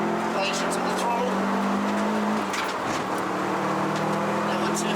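A Subaru WRX track car on Toyo Proxes R888R tyres at the Wakefield circuit accelerates. The engine hum is heard from inside the car, beneath a person talking throughout.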